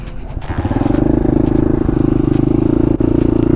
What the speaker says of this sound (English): I gotta let my bike warm up.